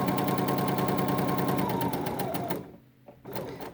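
A sewing machine stitches fabric in a fast, steady mechanical patter close by, then stops briefly before a short final burst of stitching.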